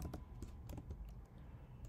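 Fast, close typing of code on a computer keyboard, a quiet stream of irregular key clicks with no talking.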